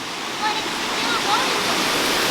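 Water flows over a small dam built from riprap, big rock and concrete, making a steady, loud, full rushing roar like a waterfall, close by and unbroken for the whole stretch.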